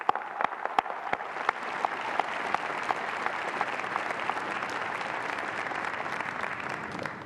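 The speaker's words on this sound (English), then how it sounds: "please join me in thanking them for all of their support with a well-deserved round of" Sustained applause from graduates and guests at the Fitchburg State University winter commencement, a dense, even wash of many clapping hands that starts sharply and holds steady throughout.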